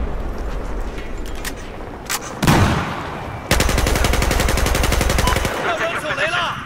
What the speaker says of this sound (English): Watch, I like pistol shot this dude.